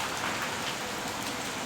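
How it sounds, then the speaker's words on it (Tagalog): Steady rain falls in Kuwait as a dense, even hiss of drops hitting surfaces, soft and continuous throughout the brief stretch. "umuulan."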